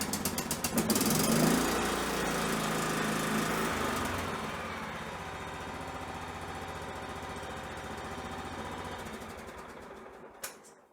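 A 2005 John Deere L110 lawn tractor engine cranks with choke on and catches, running loud and steady close by for several seconds before winding down and cutting off near the end.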